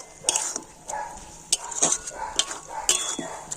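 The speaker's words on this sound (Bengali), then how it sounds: "এখন আমি এইভাবে কন্টিনিউ নাড়াচাড়া করে একটা আঠালো পুক তৈরি করে নেব" Jaggery and coconut mixture being stirred in a pan, with a utensil repeatedly scraping and knocking against the metal in an irregular rhythm, close and clear, with a faint sizzle underneath.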